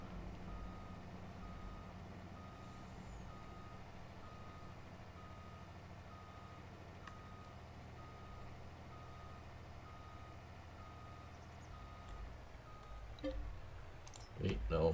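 A Mack truck reversing in Farming Simulator 22, steady, regularly spaced backup beeps over a low engine rumble, faint and even throughout, with clicking near the end.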